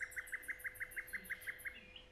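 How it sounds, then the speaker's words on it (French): A nightingale sings at dusk with a quick, even run of about a dozen sharp chirps, faint and steady, then trails off into quiet. "Tu entends cet oiseau? C'est un rossignol."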